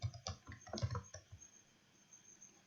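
Typing on a computer keyboard, a quick run of close, light key clicks for about a second and a half, then quiet room tone.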